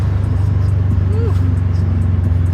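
Steady low engine drone from a 2011 Subaru WRX STI hatchback driving through Hamilton, Ontario, heard from inside the car as a constant rumble with a brief faint voice over it.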